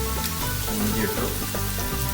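Ginger frying in hot oil in a pan for a beef biryani, giving a dense, continuous close-up sizzle with faint crackles and no voices.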